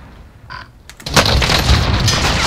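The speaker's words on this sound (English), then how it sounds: "Enemy cluster strike incoming. Take cover." Cluster strike in Call of Duty Warzone: a faint thump is followed by a sudden loud blast that rolls into a sustained, rumbling roar of explosions nearby.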